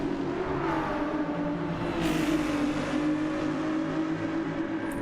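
Ferrari and Lexus race car engines at the Nurburgring Nordschleife in a racing game: a steady, droning engine note held near and loud throughout, with a slight pitch sweep midway and no talk.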